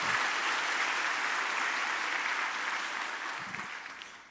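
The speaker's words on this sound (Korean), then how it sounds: "박수 한번 해주세요." A church congregation applauds during a Sunday worship service, a broad, even wash of clapping from many hands that holds steady and then slowly fades toward the end, with no voices.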